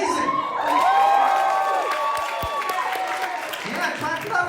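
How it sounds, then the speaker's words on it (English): A comedy special audience claps and cheers, a steady wash of applause with scattered whoops, and a voice rising briefly over it. "Yeah, clap it up. You're clapping up all her work."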